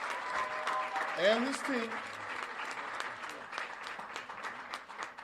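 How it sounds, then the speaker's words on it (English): Audience applause for an attorney and his team, a crowd of clapping hands that swells under someone speaking into a microphone, then continues at a moderate, uneven level after he pauses. "Let's give attorney Ben Crump a well-deserved round of applause."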